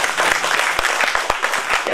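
Audience applause at a Tamil film audio launch event, a dense burst of clapping from a large crowd with a few sharper individual claps standing out, loud and steady across the whole moment.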